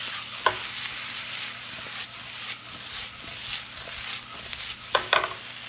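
Cooked potatoes are tossed with romesco sauce off the heat, producing a continuous soft scraping and faint sizzle with a few sharp utensil clicks near the start and end.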